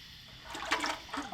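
Oil drains from a boat engine as a steady trickling, splashing flow that grows louder partway through, fairly quiet and close.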